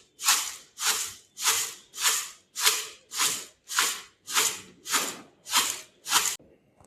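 Chevda snack being tossed and mixed with powdered sugar, about ten regular scraping, rustling strokes in a steady rhythm, close and clear with no talking.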